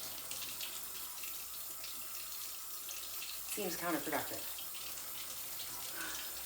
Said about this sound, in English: I'm just running water is what I'm doing.